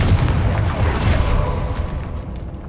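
A Confringo spell detonates in Hogwarts Legacy, a heavy, booming explosion with deep low rumble that rolls on for a couple of seconds and gradually thins out.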